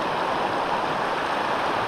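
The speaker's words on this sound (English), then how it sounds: "Found this waterfall down here." Steady rushing water pours continuously, a broad even hiss like a waterfall nearby, with no other sounds.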